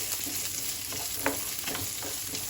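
Small tomatoes frying in a pan for a Hyderabadi paneer dish, a soft, steady sizzle with occasional light stirring scrapes, close and fairly quiet.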